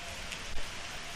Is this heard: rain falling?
yes